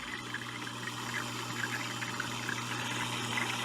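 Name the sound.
Odyssea Clean 100 surface skimmer aquarium filter running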